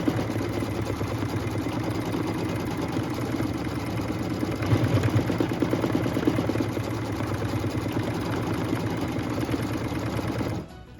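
A sewing machine stitches steadily to tack down a fabric appliqué onto an already appliquéd barn design, a continuous close, loud mechanical whir that runs for about ten seconds before stopping abruptly.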